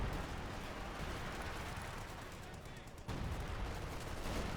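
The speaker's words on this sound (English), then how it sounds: "Lots of artillery, lots of explosions." Battle noise from the WWII strategy video game Company of Heroes 2, with constant dense gunfire and artillery rumbling as a steady wash of combat sound throughout, briefly dipping before resuming.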